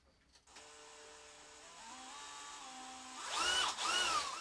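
A DeWalt DCD999 cordless hammer drill drives a 12 mm thick screw, 200 mm long, with a close, steady whine whose pitch shifts as it works, then turns harsher and louder near the end as the load rises.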